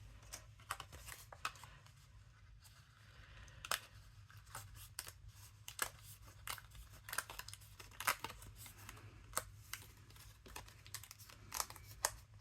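Scissors snip through paper while cutting parts for a handmade candy cane box, a quiet, irregular series of short sharp cuts and crinkles close by, with no talking.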